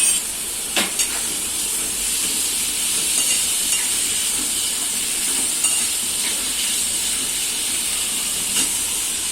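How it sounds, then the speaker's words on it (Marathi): Oil sizzles and hisses steadily in a pan, with a few faint scraping taps of stirring, and no one speaking. "ह्याला आपण चांगलं परतून घेऊया"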